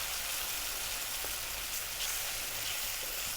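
Three whole eggs frying in a pan, a steady broadband sizzle that stays even and continuous throughout, close and moderately loud with no voices.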